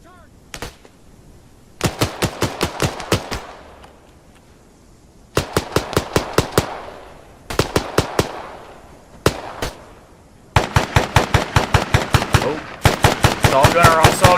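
M60 machine gun fire in the military shooter ARMA 3, heard as loud rapid bursts of gunfire in several separate volleys with short gaps between them and ringing echoes after each burst.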